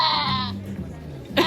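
A recorded goat bleat plays back, a strained, wavering cry heard twice with a short gap between, loud and close with a faint hum underneath.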